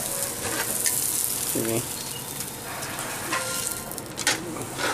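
Tortillas for enchiladas sizzle in a hot pan, a continuous crackling fry with scattered pops and utensil touches, while a person briefly speaks over it.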